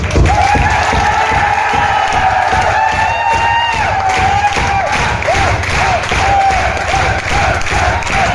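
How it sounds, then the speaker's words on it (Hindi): Audience applause from a crowd at a direct-selling business talk, steady clapping filling the whole stretch with cheering mixed in, loud and continuous throughout. "अब तो मैं ताली बजाऊंगा आपके लिए।"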